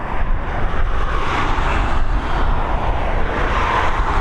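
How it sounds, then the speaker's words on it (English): Boeing 787 Dreamliner climbing out from Dublin Airport into cold grey skies, a loud, steady engine roar with some wind buffeting on the microphone, holding constant for a few seconds. "there she is, the Dreamliner up and into these cold, grey looking skies here at Dublin"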